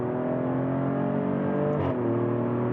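A Maserati Grecale Trofeo engine revs hard in a close, sustained roar, then its pitch drops sharply on an upshift and the engine keeps pulling.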